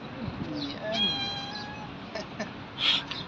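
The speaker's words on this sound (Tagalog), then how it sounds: "May pusa rito." A cat meows a few times nearby, thin drawn-out calls, over street noise with people talking in the background, near a mall in Abu Dhabi.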